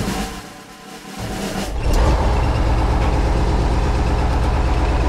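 An old KrAZ-256B1 Soviet dump truck diesel engine starting and settling into a loud, steady rumbling idle, close up and alone.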